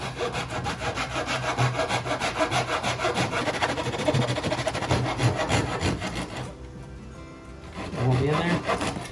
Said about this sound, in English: This is just a little tiny saw you can pick up anywhere